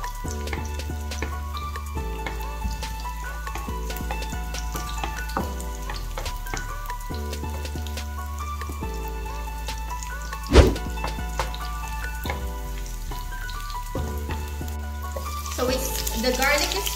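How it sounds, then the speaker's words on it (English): Garlic frying in a pan for chicken fajitas, a steady sizzle with rhythmic stirring and one sharp knock partway through. "And then the next one is put the garlic in."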